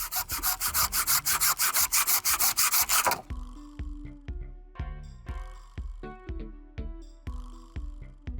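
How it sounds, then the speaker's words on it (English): A handsaw cuts through fallen tree branches, first a fast, loud, regular run of rasping strokes, then slower, separate strokes with pauses between them. "So enjoy as I cut back as far as I can with the handsaw."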